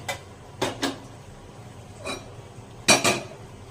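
A wok (kadhai) is set down on a kitchen stove while green chickpea usal is being made, giving a few close metallic clanks and knocks spread over a few seconds, with the loudest pair near the end.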